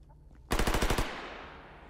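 A machine gun fires in the video game S.T.A.L.K.E.R. GAMMA: a sudden, loud automatic burst of about six rapid shots lasting half a second, then a fading echo.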